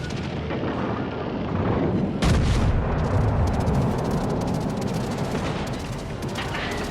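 Naval gunfire in the video game World of Warships Legends, with heavy cannon blasts booming against constant battle rumble, a large salvo erupting partway through and crackling debris and explosions following, loud and dense, with no talking.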